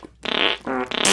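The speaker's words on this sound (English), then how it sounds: "when you sit on the toilet, you press F and you fart" Cartoonish fart effect from sitting on a toilet in a Minecraft furniture mod, a short series of buzzy, sputtering tones in three quick bursts with a brief gap between them.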